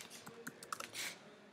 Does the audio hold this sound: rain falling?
no